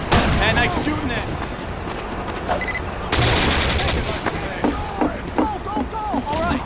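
Gunfire in Team Fortress 2, rapid repeated shots and bursts over a busy game soundscape, with voices calling out amid the shooting.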